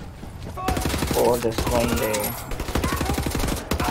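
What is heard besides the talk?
machine gun firing in Wolfenstein The New Order video game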